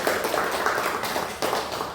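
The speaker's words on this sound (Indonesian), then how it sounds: "kalau sudah puas beri plus tepuk tangan" Students clapping in a science classroom, a brief run of rhythmic, fairly close claps with an uneven patter and no talk.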